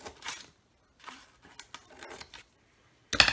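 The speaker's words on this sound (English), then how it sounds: "I'm just going to cut these sides down" Scissors cutting down the sides of a recycled cardboard box, a series of faint, short snips and rustles spaced irregularly, ending in a louder, sharper crunching cut.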